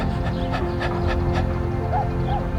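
A dog pants quickly and rhythmically close by, with faint whimpery whines breaking through near the end.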